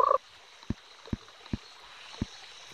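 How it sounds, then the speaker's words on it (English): Four short, evenly spaced low croaks from a cartoon frog in the Pocket Frogs mobile game, each a brief clean pop over a quiet background, with a short brighter game chime at the start. "There's our new frog."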